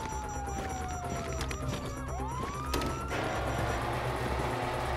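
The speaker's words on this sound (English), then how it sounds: "you hear that? Sirens." Police sirens wail with rising and falling tones amid loud, constant engine and traffic rumble, sounding fairly close and then sweeping to a different pitch partway through.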